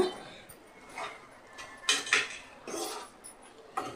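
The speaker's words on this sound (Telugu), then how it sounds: "ఆ ముక్కలన్నిటికీ పట్టేలా కలుపుకోవాలి" Spoon scraping and clinking in a pan while potato, carrot and capsicum curry is stirred with salt, a few scattered metallic taps and scrapes at moderate volume with no talk.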